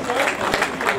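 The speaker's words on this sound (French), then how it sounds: "vos applaudissements pour le premier Eric Soubelec catégorie V2" An audience applauds at a podium ceremony for the 2018 Echirolles 10 km road race, a dense, steady patter of clapping heard together with a speaking voice.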